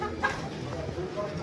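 Several hens, golden and broiler birds kept in an outdoor cage at a meat market, cluck in short, moderately close bursts over a steady background hum of market noise.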